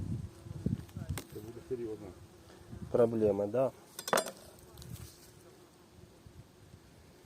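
Wasps buzz around a cut watermelon during a riverside stay on the Desna, a faint insect hum mixed with light clinks while people talk nearby.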